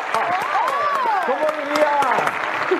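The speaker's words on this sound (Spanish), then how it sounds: "Aplauso en sus casas." Audience applause rises as a steady bed of clapping beneath a prominent, expressive voice that talks over it throughout.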